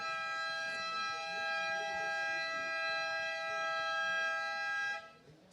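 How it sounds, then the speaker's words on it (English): A loud, steady siren at a longboard surfing open finals marks the end of a heat, its held multi-tone wail sounding continuously for about five seconds before cutting off abruptly. "Listen for the siren."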